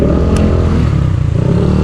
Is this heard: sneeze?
no